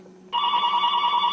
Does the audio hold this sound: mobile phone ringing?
yes